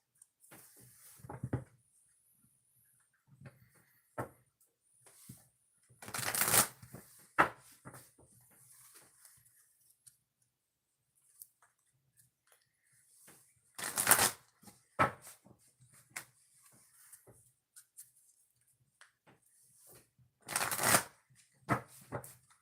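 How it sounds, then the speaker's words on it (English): Oracle cards are shuffled by hand in several separate bursts, each a quick riffling flutter, with quiet handling rustles and soft taps between them, close and fairly faint. "I got to shuffle your cards"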